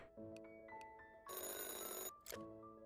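In Chocolate Factory Simulator, a telephone rings inside the game with a bright electronic bell trill that repeats in short bursts over a quiet musical background.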